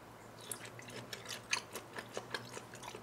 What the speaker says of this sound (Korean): 간장 찍지 말고 그냥 한번 먹어보겠습니다